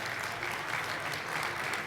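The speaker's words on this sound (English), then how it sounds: "give an applause to Giuseppe Gentile" An audience at a pizza festival demonstration applauds chef Giuseppe Gentile, producing a dense, steady wash of clapping from many hands that carries on without break and with no talking over it.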